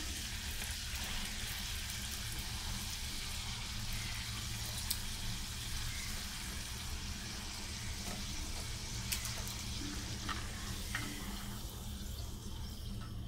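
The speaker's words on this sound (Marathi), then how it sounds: "1 मिनिटामध्ये आपले हे 2 करंजी तळून झाले आहेत।" Coconut karanji pastries deep-frying in hot oil give off a continuous faint hiss and bubbling sizzle, steady and unbroken throughout.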